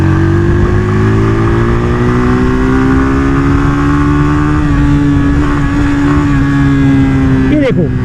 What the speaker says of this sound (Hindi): जैसे मैं थोड़ा सा थ्रोटल ओपन करता हूँ कैसे भागेगी ये देखो।